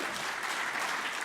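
Sustained audience applause at a cybersecurity conference session, a dense, even wash of many hands clapping throughout with no voices on top.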